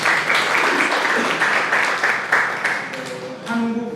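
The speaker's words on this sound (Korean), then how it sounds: "박수로 이렇게 맞이해 주시죠" An audience applauds to welcome a university professor taking the stage for a talk on Korean democratization; steady, dense clapping fills the room throughout, fading slightly before a brief voice near the end.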